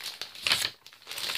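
A plastic bag crinkles and rustles as it is handled, with bright papery crackles in bursts that swell and fade, loudest near the middle, close up with no voices.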